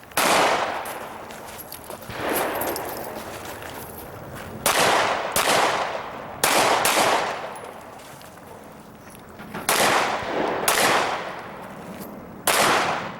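Pistol shots at an outdoor IDPA shooting match at a wildlife club, a string of loud, sharp reports spaced a second or two apart, with echoing decay between shots and no talking.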